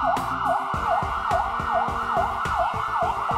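An SCDF ambulance siren cycles through its yelp tone, a loud, fast, evenly repeating whoop about twice per second, heard alone over a steady percussive beat.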